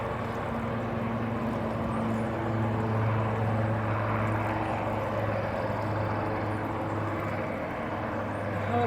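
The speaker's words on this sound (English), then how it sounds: "a helicopter is flying by" A helicopter passes over a creek, a continuous droning engine and rotor hum that stays steady and fairly loud throughout, with distant traffic blending into the background.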